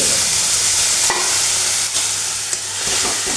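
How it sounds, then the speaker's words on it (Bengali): Ground pointed gourd peel paste is stirred in hot oil with black cumin seeds, giving a steady broad sizzle with scraping spoon strokes every second or so; no talking. "এবারে শুধু এটাকে সুন্দর করে তেলের মধ্যে নাড়তে থাকতে হবে"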